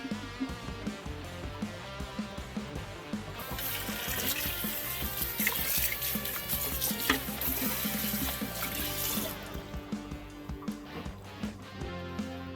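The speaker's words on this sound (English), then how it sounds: "I'll rinse that pretty quick." Tap water runs over a part of an Aqueon aquarium canister filter held in a sink, a steady close splashing flow that turns brighter and louder mid-rinse, with handling clatter.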